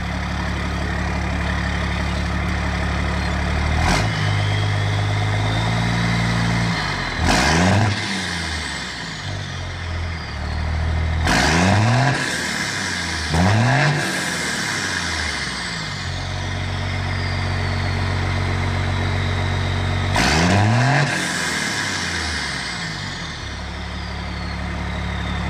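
A first-gen Dodge Cummins diesel heavy tow rig fitted with 7x.011 148-degree SAC injectors idles with a deep, steady rumble, then revs sharply several times, each rise and fall clear and close, with no voices.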